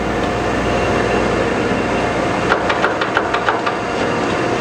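A 16 x 40 inch Chevalier precision surface grinder runs with a steady motor drone and grinding hiss, its table traversing back and forth, with a series of short clicks and knocks from the table reversal and feed partway through.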